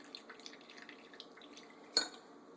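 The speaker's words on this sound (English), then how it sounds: "basically let the milk strain out" Homemade coconut milk straining through a strainer, a quiet trickle with one clear, close drip-splash standing out near the end.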